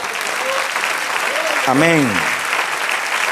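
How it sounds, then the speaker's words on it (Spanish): A church congregation applauds in praise during a Spanish-language sermon, a steady broadband patter of clapping filling the room while a voice rises over it in a sung or shouted exclamation. "Dale otro aplauso al Señor."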